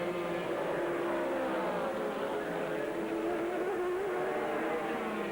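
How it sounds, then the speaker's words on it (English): BMW race car engine at an ALMS 2000 race, a steady sustained roar held at a constant loud level with slight pitch shifts, no talk over it. "here comes the number 1 car"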